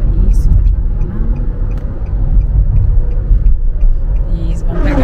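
A car drives on a highway, its low engine and road rumble steady and close throughout the cabin, with a driving instructor talking over it.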